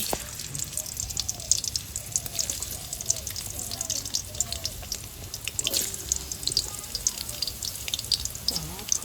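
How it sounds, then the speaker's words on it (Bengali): Amla, the Indian gooseberry, fries in a pan with a faint, steady crackling sizzle and scattered pops, while a voice murmurs softly in the background. "এখন আমলকি, কাঁচা হলুদ আর ওই যে কি অ্যালোভেরা না কি বলে ওইটা দিয়ে একটু ভেজে নেব"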